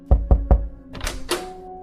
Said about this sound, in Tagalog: Kumatok si Lola.